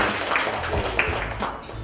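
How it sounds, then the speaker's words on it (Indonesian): Guests at a wedding reception give a round of applause, a lively spread of many hands clapping at once with scattered louder claps and faint voices beneath. "Oke, tepuk tangan yang meriah hadirin"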